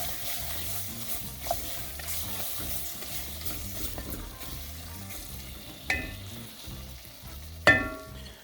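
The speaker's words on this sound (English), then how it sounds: "At this point, we're going to add our diced chicken thigh." Diced chicken thigh frying and sizzling in a pot for gumbo, a steady crackle with occasional louder stirring scrapes and clinks, close and alone with no voices.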